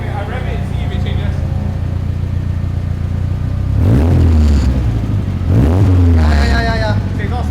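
Honda FD2 race car engine with an exhaust leak revving at Sepang International Circuit, a low rumbling idle rising into two loud revs, with people talking over it.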